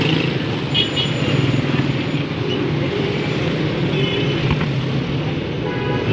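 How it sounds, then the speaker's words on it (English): Dense, hectic road traffic in Iran, a steady loud wash of car engines and tire noise with distant horn toots and passing vehicles throughout, no talking. "Traffic is pretty hectic."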